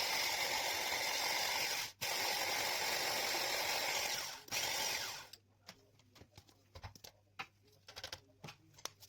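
A food processor grinds biscuits in a dense, loud whirring blend with two brief pauses, then stops, followed by scattered clinks and small knocks.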